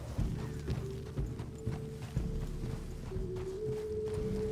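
Horse hooves clip-clopping at a steady walking pace in Red Dead Redemption 2, a continuous rhythmic plod close up under a sustained low in-game hum, with no voices.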